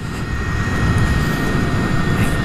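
A steady, loud whirring drone with a high whine sits close and constant, a Brammo Empulse R electric motorcycle riding along with wind rushing past.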